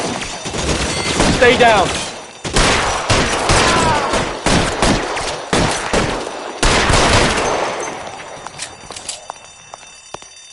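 Suppression gunfire in the video game L.A. Noire, a string of loud, sharp bursts repeating through the scene with short gaps and a few fainter cracks near the end, while a voice speaks briefly over the shooting.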